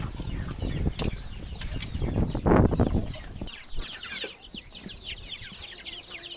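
Chickens on a duck and chicken farm cluck and call over a busy outdoor background, with a burst of wing flapping midway and scattered bird chatter throughout.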